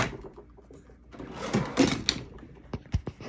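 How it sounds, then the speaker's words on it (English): Drawers of a makeup table sliding out, a few close wooden scrapes and knocks in quick succession, fairly quiet with faint room noise. "I pull out my drawers."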